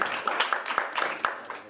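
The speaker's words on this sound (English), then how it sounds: "I would like to give a round of applause for everybody up there." An awards-ceremony audience gives a short round of applause, with dense overlapping hand claps close and loud across the whole moment.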